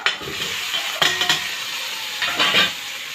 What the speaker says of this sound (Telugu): అల్లం వెల్లుల్లి పేస్ట్ ఇది వేసేసుకుంటున్నాను